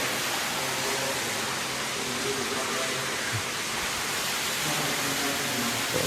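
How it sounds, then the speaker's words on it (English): Water gushes and splashes from burst pipes in a leaky room of an abandoned paper mill, a steady, loud, hissing roar like heavy rain that fills the space throughout. "Pipes burst. Water pissing everywhere."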